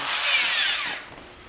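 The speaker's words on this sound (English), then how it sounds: "I'm going to drill a pilot hole through here first." A power drill bores a pilot hole through a copper moonshine still part, a steady high whine that runs loud for about a second and then trails off.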